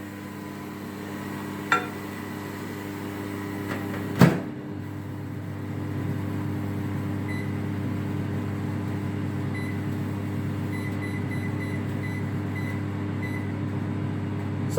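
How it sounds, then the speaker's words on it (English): A kitchen oven running with a steady low hum after a baking dish goes in for a Valentine's bake, with a clunk of the door shutting and a couple of faint beeps as the timer is set. "And now let us transfer this to the preheated oven."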